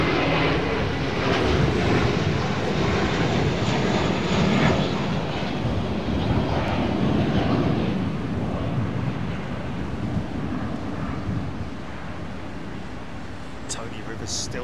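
Airbus A380 at London Heathrow Airport, its jet engine roar a broad, steady rumble close by for the whole stretch, easing slightly toward the end with some wind noise on the microphone.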